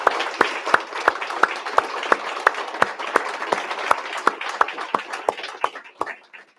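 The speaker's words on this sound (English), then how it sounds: "Let's have another round of applause for all of our awardees today." Sparse, fairly faint clapping from a small audience at a Department of Homeland Security awards ceremony, individual claps audible and irregular, gradually thinning out at the end.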